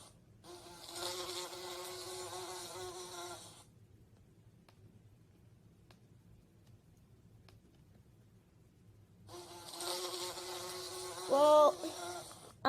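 A LEGO bee model gives off a steady electric buzz for a few seconds, cuts out into quiet with faint clicks, then buzzes again, close and moderately loud.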